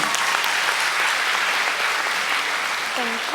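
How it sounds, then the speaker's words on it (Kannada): Steady, dense audience applause at the finals of a Jain bhajan competition, a continuous wash of many hands clapping that fills the whole stretch at even loudness. "ಜೋರಾಗಿ ಇನ್ನೊಮ್ಮೆ ಚಪ್ಪಾಳೆ ತಟ್ಟಬೇಕು"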